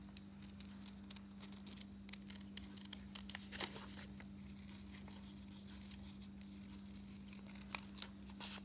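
Scissors snip out paper pieces in a quiet room, giving soft, irregular cuts and light paper rustles close by against a steady low electrical hum.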